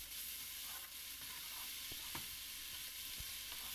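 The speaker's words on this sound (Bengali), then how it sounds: "লাল শাক দিয়ে দিলাম, দিয়ে নাড়াচাড়া করে উঠিয়ে নেব" Red amaranth leaves sizzle steadily in a hot pan, a constant loud frying hiss broken by soft scrapes and knocks as a utensil stirs them.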